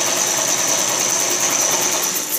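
A small motor hums steadily, driving a cutaway chain case and planetary gear model with a continuous close whir and a faint high whine.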